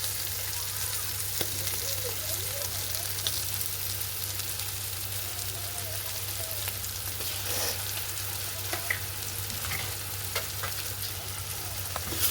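Tomatoes and onions frying in a pan, a steady, fairly loud sizzle and crackle with a low hum beneath it and occasional soft stirring clinks, with no talking.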